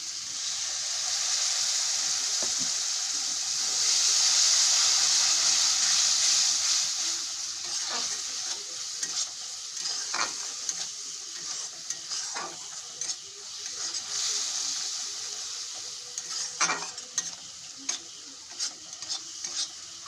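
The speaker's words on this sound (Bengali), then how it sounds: "মশলাটা ভালো করে ভাজা হয়ে গেছে।" A paste of ground mustard and green chili fries in oil in a pan, a bright steady hiss and sizzle with intermittent scraping and clinking of a spatula as it is stirred, close and without speech.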